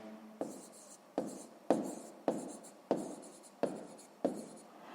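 A pen writing on paper while working a sixth-grade maths exercise, a run of seven rhythmic scratchy strokes, close and fairly quiet, each starting sharply and trailing off.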